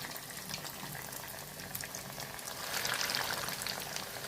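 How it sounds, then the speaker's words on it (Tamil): Bread-crumb-coated paneer pieces fry in hot oil in a kadai over a slow flame, giving a steady, soft, continuous bubbling sizzle with no talk. "ஒன்று ஒன்றா எடுத்து எண்ணெயில் வச்சிடலாம்"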